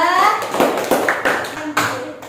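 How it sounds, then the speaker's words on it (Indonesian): A class applauds a student group with a short run of distinct, close hand claps at an uneven rhythm, mixed with children's voices. "tepuk tangan buat kelompok 3"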